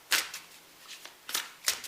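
A deck of tarot cards is shuffled in several quick riffling bursts, close and crisp, with short pauses between them.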